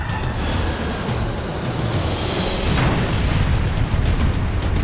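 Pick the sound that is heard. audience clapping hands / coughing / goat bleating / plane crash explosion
plane crash explosion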